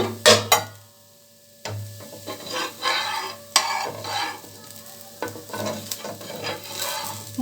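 Dosa cooking in oil on a pan, a steady close sizzle broken by repeated scraping and clattering strokes of a spatula against the pan, moderately loud with no one speaking.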